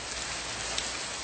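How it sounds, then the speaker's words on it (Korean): Heavy rain pours in a dense, steady hiss with no gaps, filling the space evenly and loudly, with no voices. "무슨 비가 이렇게 많이 온대요?"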